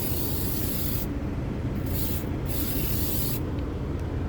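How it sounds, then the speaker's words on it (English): A steady hiss of disinfectant aerosol spray running continuously with short pauses inside a truck cab, close and fairly loud, no voices. "you might as well spray the steering wheel as well"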